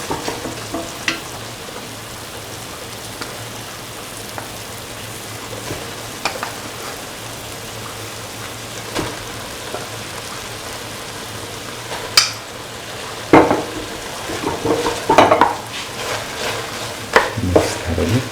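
Scrambled egg and bottle gourd rice frying in a pan, with a soft steady sizzle under light, intermittent stirring scrapes that grow louder and busier toward the end.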